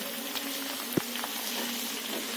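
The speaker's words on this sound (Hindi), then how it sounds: "तब तक मैं अपने ये कटहल को चला लेती हूँ इसको देखते रहना ये अच्छे से फ्राई हो जाए" Jackfruit pieces fry in oil in a pan while being stirred, giving a quiet, steady sizzle with a single sharp clink of the spoon against the pan partway through; no one speaks.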